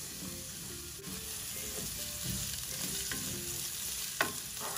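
Onion softening in a hot pan sizzles steadily at close range, with scattered scraping stirs over the fry and a sharper clink near the end; no one speaks.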